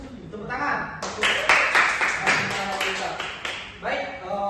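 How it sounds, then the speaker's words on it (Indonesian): Classroom applause, a burst of several seconds of close hand clapping with a voice heard at the start and end. "Tepuk tangan."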